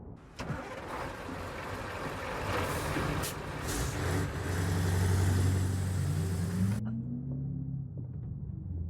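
A truck's engine rumbles and rises in pitch while a loud broadband air-brake hiss runs for several seconds, then cuts off sharply, leaving a lower mid-pitched engine drone; close and fairly loud.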